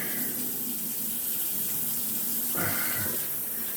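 Tap water runs steadily into a sink during handwashing, a soft continuous splashing with a brief louder gush midway as hands move under the stream.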